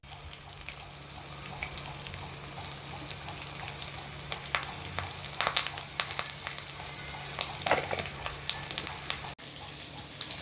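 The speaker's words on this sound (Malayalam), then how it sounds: "നമുക്കിനി അത് ഫ്ലെയിം ഓഫ് ചെയ്തിട്ട് കടു വറക്കാം" Steady sizzling with sharp, irregular crackles and pops as mustard seeds fry in hot oil, close up and fairly loud, with a low hum underneath.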